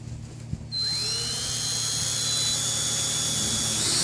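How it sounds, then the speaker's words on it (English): A power drill whirs up after a brief quiet moment and keeps spinning at a high, steady whine close by, pre-drilling holes for RV solar panel mounting. "I'm going to go ahead and pre-drill the holes where I've marked them here."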